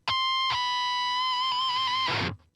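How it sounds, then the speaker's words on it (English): A sustained, squealing electric guitar pinch harmonic with heavy metal distortion, a high harmonic ringing over the gritty tone for about two seconds before cutting off. "which a pitch harmonic sounds like this"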